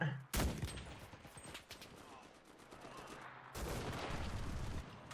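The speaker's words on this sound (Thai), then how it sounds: "ใครมันเอาปืนกลยิงอะไรนักหนาวะ" Bursts of machine gun fire in the World War II shooter Enlisted, with a sharp loud volley at the start and another dense stretch near the end, separated by quieter rattling battle noise.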